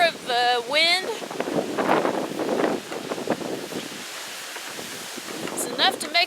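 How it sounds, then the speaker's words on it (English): Strong wind gusts roar in broad bursts across an open farm at wheat harvest time, with birds chirping briefly near the start and again at the end. "it's crazy windy again today."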